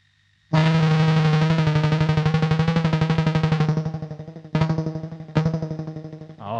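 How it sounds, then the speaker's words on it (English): Rapid pulsing synth tone with repeating echoes, a steady stream of decaying repeats, followed by two sharp re-triggered notes that trail off. "Oh, almost sounds like a delay."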